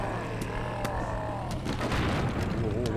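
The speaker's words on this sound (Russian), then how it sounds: "Ого, вот это был взрыв." An explosion in a zombie car video game, a series of booming thuds and rumbling blasts over a steady engine drone, moderately loud.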